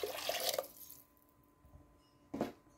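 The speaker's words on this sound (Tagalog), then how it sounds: "Tapos lagyan na natin ng tubig." Water poured into a cooking pot while making Indian food, a loud splashing pour that stops after about a second, then a quieter gurgle and a second short splash near the end.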